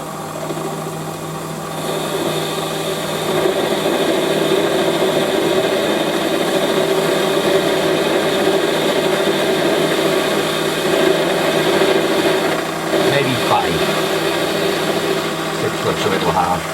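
A Warco WM180 metal lathe taper turning a small steel part hums steadily up close, its motor and cutting noise starting just after a quieter opening and running evenly to the end.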